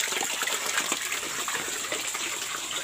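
Water pours and splashes steadily at close range in a countryside kitchen where a coconut-milk dish is being cooked, a continuous loud gushing with no talk.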